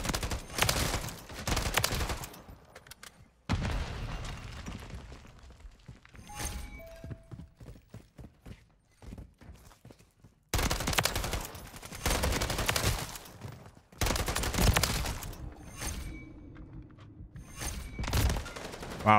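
An SVA 545 rifle fires in Call of Duty MW3 multiplayer, with several rapid bursts of gunfire and distant shots separated by short quiet gaps and scattered game effects.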